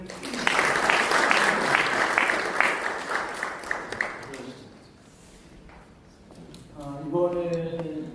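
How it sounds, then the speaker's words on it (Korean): Audience applause at a church general assembly meeting, a dense burst of clapping for about four seconds that then fades, followed by a speaking voice. "저희 같이 인사할 때 박수로 격려해 주시면 감사하겠습니다"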